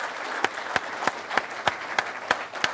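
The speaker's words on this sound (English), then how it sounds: "Let's give each of them a round of applause as I welcome them." Audience applause for panelists at a national election leadership debate: steady clapping with sharp individual claps standing out at a regular beat over a dense wash of hands, moderately quiet and sustained.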